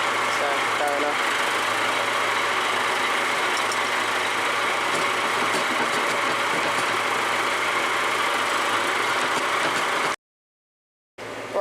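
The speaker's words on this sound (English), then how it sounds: "Right, so we're just in the loader tractor now." A loader tractor's engine runs steadily at idle inside the cab during muck spreading on a farm, producing a constant low rumble and vibration that drops out briefly near the end.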